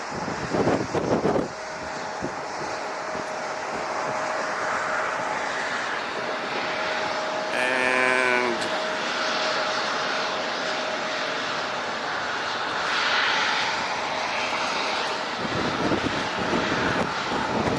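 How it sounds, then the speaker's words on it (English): A small Cessna Super Cargo Master prop plane flying a FedEx Feeder run at San Diego International, droning steadily with light wind across the whole stretch, with a brief warbling tone partway through. "It's a Cessna Super Cargo Master."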